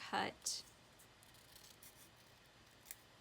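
Scissors snip through folded paper while a letter shape is cut freehand, two quick crisp cuts at the start, then a quiet stretch with faint rustling and one small click.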